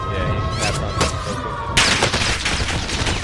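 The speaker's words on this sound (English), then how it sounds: "he's fucking shooting the fuck out of me right now" Rapid bursts of gunfire in an online shooter game, sharp cracking shots in quick succession over a continuous low rumble, with a louder heavier volley partway through and the firing carrying on steadily.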